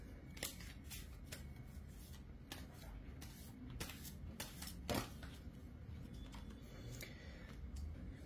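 Tarot cards drawn and handled during a partner-energy reading, giving repeated soft papery flicks and snaps over a steady low room hum, close and fairly quiet.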